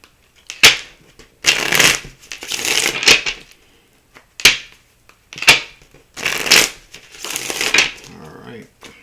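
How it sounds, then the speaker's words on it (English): A deck of cards is given a quick shuffle, several crisp riffling bursts in quick succession, close and fairly loud, separated by short pauses. "We're going to give these here a quick shuffle."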